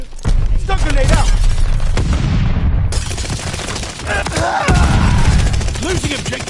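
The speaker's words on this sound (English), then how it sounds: "Stun grenade out." A stun grenade going off in a tactical video game, heard as a loud, dense burst of blasts and crackling gunfire that fills the whole stretch, with game voices mixed in.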